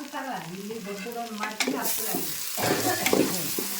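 Potato with salt and masala frying in a pan for a breakfast dish, a close sizzle with stirring scrapes that grows louder and hissier partway through, with some tonal background sound early on.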